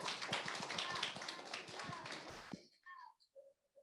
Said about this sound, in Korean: 여러분 큰 박수와 함께 메리 크리스마스로 맞아 주세요